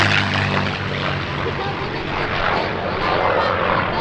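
Piston engines of a B-25 Mitchell bomber, delivered to the U.S. Army Air Forces in December 1944, drone loudly and steadily for the whole stretch at a warbird show, while a voice talks over the roar.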